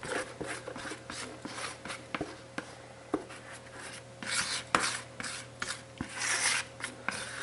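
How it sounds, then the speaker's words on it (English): A spatula scrapes cornstarch off the bottom of a bowl of sliced peaches, repeated soft rasping strokes with small clicks against the bowl, close and steady under a faint hum. "Now we want to make sure we get all that cornstarch that's in here on the bottom. So we take a spatula"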